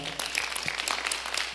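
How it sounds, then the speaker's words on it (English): A crowd in a church cathedral applauds steadily, with dense clapping filling a short burst. "Another round of applause for Jahan."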